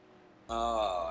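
Race cars battle on the track in a Solstice ProLine Cup Series race at Indianapolis; an engine note cuts in suddenly after brief quiet, then holds loud and close with a rising pitch for under a second.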